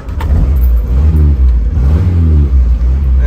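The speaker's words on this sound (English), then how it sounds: "That's the classic sound of a Morris Minor." A 1971 Morris Minor Traveller's engine catches and runs close by, a loud low idle rumble rising in a couple of revving swells before settling back.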